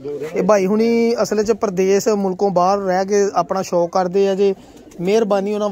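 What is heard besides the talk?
pigeons cooing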